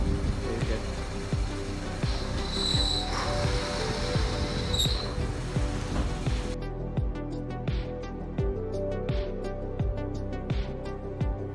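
A Subaru car failing from a seized throwout bearing, heard as a steady low mechanical rumble with repeated knocking pulses throughout, close and fairly loud, alone without talk.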